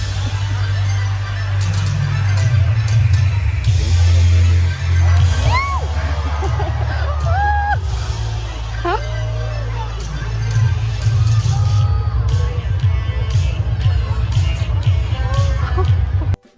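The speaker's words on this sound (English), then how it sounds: "The beach was completely packed and everyone was cheering" Crowd on a packed beach cheering and whooping through a Pokémon drone show in Hawaii, a dense, loud, continuous roar of voices with shouts and scattered whistles.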